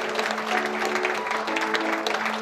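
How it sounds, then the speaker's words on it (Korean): Applause from a seated crowd at an alumni association's inauguration and New Year gathering after a plaque presentation, a steady brief patter of many hands with a low tonal hum beneath and voices faintly mixed in. "감사의 큰 박수로 부탁드리겠습니다"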